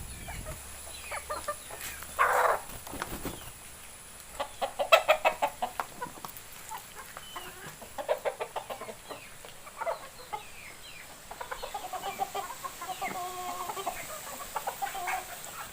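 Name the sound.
chickens clucking, laying hens and native hens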